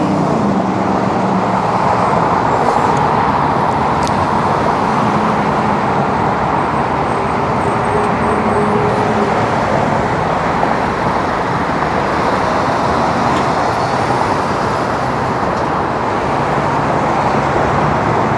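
Rush hour freeway traffic in Los Angeles, a steady, loud roar of cars, trucks and buses rolling past nearby without a break.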